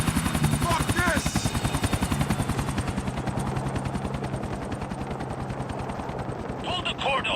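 Helicopter in GTA IV: The Ballad of Gay Tony, a loud, steady rotor chop with rapid even blade thumps throughout, close and continuous, with faint game effects mixed in.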